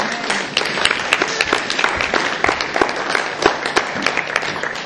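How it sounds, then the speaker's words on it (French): Church congregation breaking into sustained applause, dense close clapping spread evenly across the room with no speech over it. "On acclame la parole du Seigneur."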